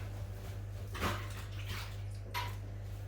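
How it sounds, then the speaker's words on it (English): Hands being washed under running water at a sink during home cooking, a steady close wash of water with a low hum beneath and a couple of louder splashing surges. "I'm going to have to wash my hands a minute"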